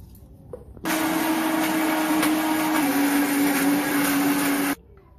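An electric mixer grinder runs for about four seconds on a spice masala with coriander powder, giving a loud, steady, close motor whir. It starts and stops abruptly, with brief handling noises before and after and no talk.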